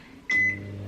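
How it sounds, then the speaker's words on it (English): A microwave oven gives a short, sharp beep and then settles into a steady low hum that runs close and constant. "I'm just gonna microwave it, actually."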